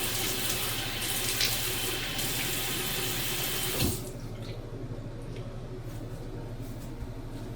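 A tap runs steadily into a sink while a face is wetted before another shaving pass, a close, broad splashing rush that cuts off midway and leaves a quieter room with small drips and clinks.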